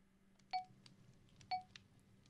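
Two short electronic beeps from a machine in a video game, about a second apart, each sharp and bright over a quiet hum.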